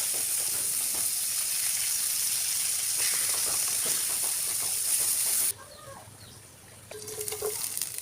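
Whole tilapia fish frying in hot oil as they are flipped over, a loud steady hiss and sizzle that abruptly drops to a quieter simmer, with faint clinks near the end.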